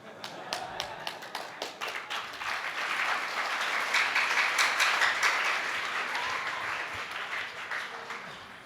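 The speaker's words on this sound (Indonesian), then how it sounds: "Bisa jadi tepuk tangannya agak lambat di sana" Applause from students joining a Ramadan lecture over Zoom, scattered claps building into a steady, moderately faint wash that carries on for several seconds, with transmitted room noise behind it.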